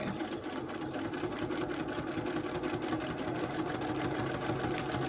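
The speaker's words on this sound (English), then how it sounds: "as you can hear, my machine sort of needs to speed up as I'm doing a larger area" Domestic sewing machine running steadily through free-motion quilting of circles, a continuous close whirring with rapid needle rhythm that holds even and loud throughout, with no talking.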